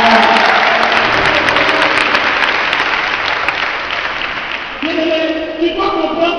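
A charismatic church congregation applauds the Lord in sustained, dense clapping that fills the room, with crowd voices and a tonal hum rising under it toward the end.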